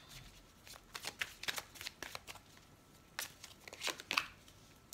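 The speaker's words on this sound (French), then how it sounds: "Et on va tirer la carte synthèse pour voir." Tarot cards are shuffled and drawn in a quiet room, a close, soft run of riffling flutters and light papery slaps that speeds into a busier burst near the end.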